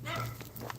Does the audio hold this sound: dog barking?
yes